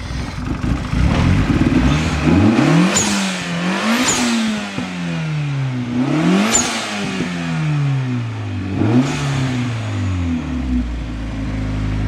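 A Nissan SR20 engine in a Datsun 510 wagon revs repeatedly, climbing and falling in pitch about four times in a loud, close, continuous roar heard from the front.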